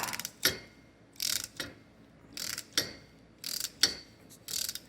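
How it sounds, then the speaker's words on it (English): A gear puller is cranked in short ratcheting bursts to draw a gear off a shaft on a Toro 4500D gearbox, the clicks coming in irregular clusters, close and fairly quiet with no talk. "I'm going to try to finish cranking this off of here."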